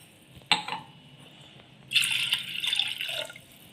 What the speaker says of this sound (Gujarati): પછી એની અંદર આપણે એડ કરી દઈએ 2 ગ્લાસ પાણી